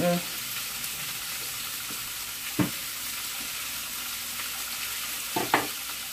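Large chunks of onion fry in a pan on the stove with a steady, close hiss, marked by a few brief knocks from stirring.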